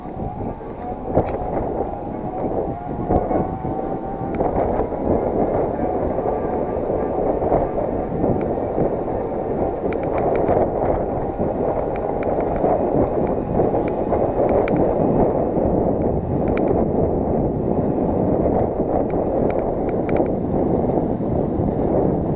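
DIY electric bike running 18650 laptop lithium-ion cells, ridden fast along a flat section, a steady rushing wind and road roar with faint mechanical hum throughout.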